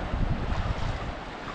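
Strong ocean waves roll in at low tide on Purao Island, Roxas, Palawan, a loud, close surf wash heavily buffeted by wind noise on the microphone, with no talking.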